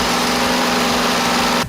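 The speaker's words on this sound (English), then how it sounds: "I just want to show you how easy it cranks now" A small engine cranking and running after a starter replacement gives a steady, loud, close buzzing drone for under two seconds before cutting off abruptly.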